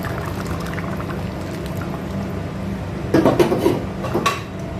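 Thick first coconut milk poured into crab mappas curry in a hot pan: a quiet stove hum, then a brief, close splashing pour with a light clink of the pan near the end.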